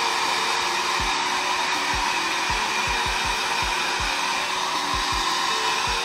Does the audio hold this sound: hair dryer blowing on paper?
yes